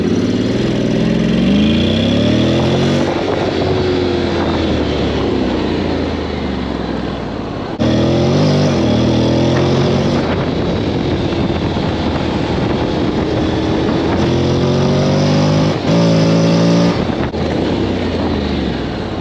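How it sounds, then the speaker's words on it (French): A grey Nardo 2022 Honda X-ADV 750 scooter's engine while riding in sport mode, loud and close with rising and falling revs through gear shifts, brief dips and wind buffeting. "on va faire un petit tour avec l'XADV"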